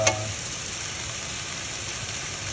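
Mushrooms sizzling and frying in a pot over a fire turned all the way up, a steady close hiss with a brief clatter at the start.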